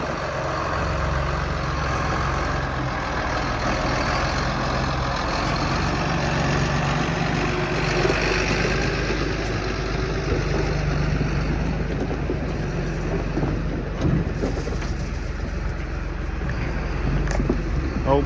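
A tractor idles with a steady low rumble while pulling a grain cart out for wheat harvest, the engine drone continuous and moderately loud with faint voices in the background.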